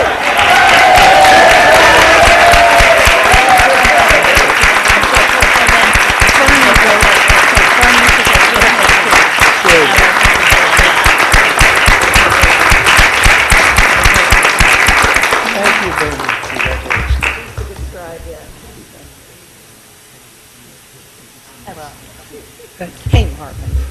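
Loud, sustained applause and cheering from a council chamber crowd in Princeton roll on for about fifteen seconds, then fade to scattered claps and quiet room noise with a few nearby voices.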